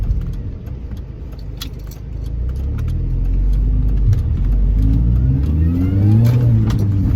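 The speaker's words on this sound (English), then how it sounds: "I'm going to go for a drive on a relatively damp set of roads, so this could be a bad idea, with traction control off." A car accelerates on damp roads with traction control off, the engine note rising steadily and loud from inside the cabin while keys jangle in short, sharp clinks.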